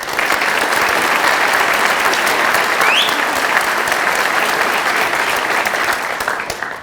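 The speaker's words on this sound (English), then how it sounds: "Please give another loud round of applause to Kelsey Kroc" Sustained loud applause from an audience honouring the runner-up at an Ivy Day awards ceremony, steady dense clapping throughout without a break.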